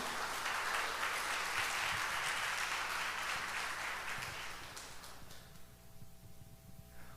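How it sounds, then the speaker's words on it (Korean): Applause from the congregation at the first worship service in a new church hall, a dense wash of many hands clapping that holds steady and then fades away toward the end. "우리 부장님 나오실 때 박수 부탁드릴게요"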